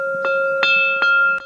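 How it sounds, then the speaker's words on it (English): A bell rung outdoors to call in horses rings several times at a steady pace, its clear tone sustaining and overlapping between strikes, loud and close. "I'll ring the bell and we'll see if they come in."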